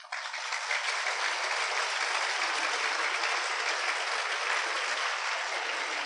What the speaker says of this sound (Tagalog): Pumalakpak nga tayo ng malakas.